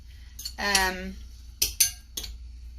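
A utensil mixes egg white and shredded mozzarella in a bowl for a keto batter, with a scraping stroke and a few sharp clinks against the bowl near the end, close and fairly quiet.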